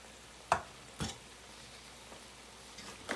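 Spices being stirred and mixed in a hot pan for a mutton and okra curry: a few faint, short scraping strokes spaced about half a second apart, then a long quiet stretch before two more soft scrapes.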